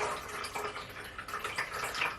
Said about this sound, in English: So when I pour the water in, it is going to mix it all together.